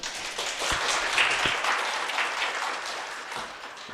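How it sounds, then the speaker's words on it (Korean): Audience applause at a Korean education-exam lecture, welcoming a top-scoring teacher candidate before her talk: a steady, moderately loud wash of many hands clapping together, with a few sharper individual claps standing out, continuing evenly throughout. "박수 부탁드립니다."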